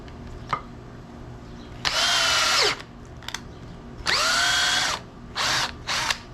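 A cordless drill set to its highest clutch level, 23, drives a screw into material in four loud whirring bursts, each winding down in pitch as it stops, with quiet gaps between.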